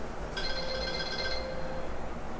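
A mobile phone rings briefly in a room, a short bright electronic tone of about one second heard alone against low background noise.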